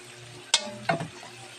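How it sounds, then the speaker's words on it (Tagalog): Mung beans are tipped into a pan of frying garlic and onion, giving a sharp clatter followed by a brief sizzle and stirring over a low background hiss. "Ilalagay ko na ngayon ang munggo."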